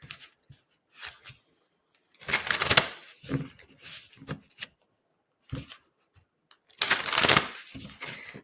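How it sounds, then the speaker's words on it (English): Several bursts of a Poesis Oracle card deck being shuffled close up, crisp riffling rustles separated by short pauses, with no talking. "So the other deck that I am shuffling is called the Poesis Oracle deck."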